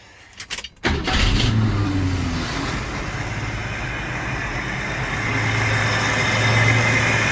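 A 1974 AMC Gremlin barn find starts up after a few clunks and settles into a steady, close engine run with a low, even idle hum that grows slightly louder toward the end.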